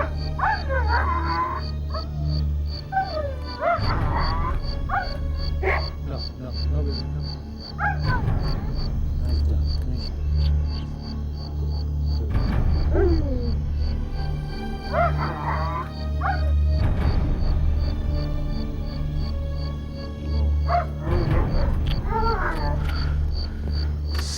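A dog barks in several scattered bursts, loud and close, over a steady drone of background music with some whimper-like sounds.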